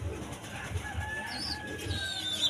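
A pigeon coos in soft, low pulses at a slow, uneven pace. Faint thin bird whistles sound in the background, and the scene is fairly quiet overall.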